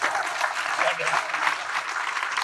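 A gathered audience at a Kenduri Cinta community forum bursts into brief, lively applause, a dense patter of clapping with voices mixed in.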